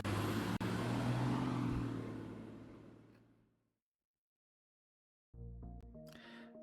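A bus in traffic in the video game Fate/Grand Order gives a loud, steady engine and road rumble that fades away into silence, followed by a brief tonal chime.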